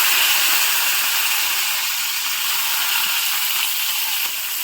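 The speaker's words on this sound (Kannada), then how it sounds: "ಸೊ ಕ್ಯಾಪ್ಸಿಕಮ್ ಹಾಕೋತೀನಿ ಇವಾಗ. ಒಂದು ಸ್ವಲ್ಪ ಎಣ್ಣೆಲಿ ಫ್ರೈ ಮಾಡ್ಕೋಬೇಕು ಕ್ಯಾಪ್ಸಿಕಮ್." Green and red capsicum fry in a little hot oil, giving a constant loud sizzling hiss that holds steady throughout.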